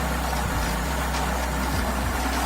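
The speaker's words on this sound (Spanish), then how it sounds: "No sé si llega a escucharse inestable el motor" A car engine running on LPG/CNG drones loud and close at very light throttle, its low rumble wavering slightly as it hesitates instead of pulling cleanly.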